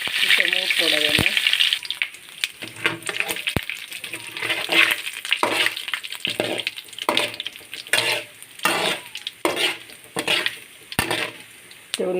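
Mustard seeds spluttering and popping in hot oil in a pan, a dense, loud crackle of sharp pops with scraping and stirring noises throughout and a brief voice near the start.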